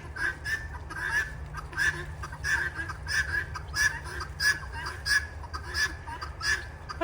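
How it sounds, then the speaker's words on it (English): A flock of chickens trailing close behind someone, a dense run of rhythmic clucks and squawks repeating steadily, near and moderately loud with no talking. "What a silly group of birds."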